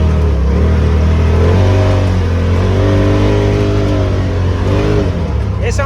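Polaris RZR 1000 side-by-side on 33-inch tires with its engine revving hard, a loud, close, continuous drone that climbs and wavers in pitch, with a brief sharp sound near the end.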